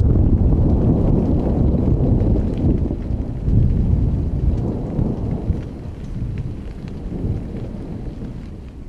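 Strong wind buffets a campsite outdoors, a loud, continuous low rumbling roar with gusty swells battering the microphone throughout.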